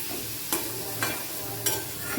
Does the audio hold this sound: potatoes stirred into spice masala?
yes